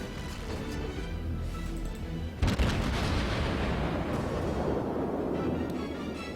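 A salvo from the Atago, a Japanese Tier 8 cruiser in the naval video game World of Warships, a loud booming volley midway that gives way to a long rumbling roar over steady game ambience.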